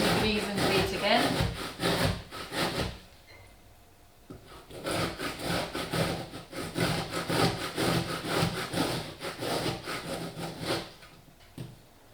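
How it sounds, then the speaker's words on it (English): A pear is grated by hand around its core on a grater, rhythmic rasping strokes close and fairly loud in two runs with a short pause between as the fruit is turned. "I just grate round the core, so I just grate and then turn it 90 degrees and grate again"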